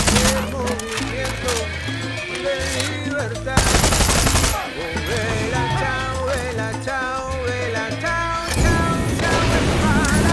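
Far Cry 6 combat brings automatic gunfire and heavy explosive bursts under loud, driving music with singing vocals. The blasts punch through the track in dense, crashing waves.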